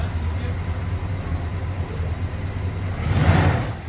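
A rare Jeep Wagoneer Limited engine rumbles low and steady as the vehicle begins rolling backwards, with a brief louder surge near the end.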